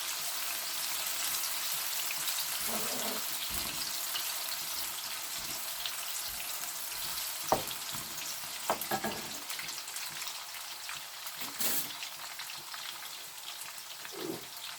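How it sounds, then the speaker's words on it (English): Spring onions sizzle steadily in a hot pan, a soft continuous hiss with occasional light pops and faint stirring clicks, fairly quiet and without talk. "Next, I'll be frying some spring onions, and again the same with the white sliced onions."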